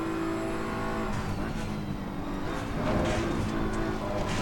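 A race car engine in a racing video game howls at full throttle near a chicane, the revs climbing with gear-change dips, steady and moderately loud with no talking.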